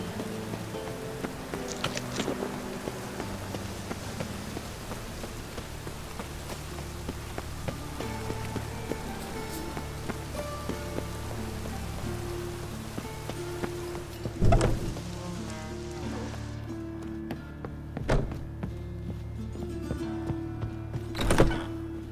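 Steady rain falls in The Witcher video game, an even patter running throughout beneath game music, broken by a few heavy thuds near the end.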